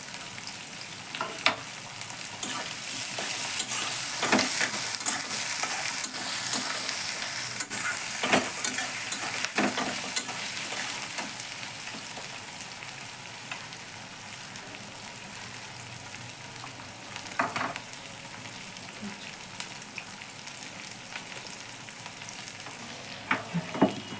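Soya chunks sizzle in a pan with green chilli and chopped ginger, a steady crackling fry broken every few seconds by louder scraping stirs. No one talks.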